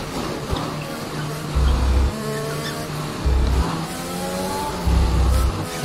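F1 car engine in the game F1 Braking Point at a rainy Spa, with repeated surges of high-pitched revving as the car accelerates and drops back between bursts, loud and close, with a voice talking in places.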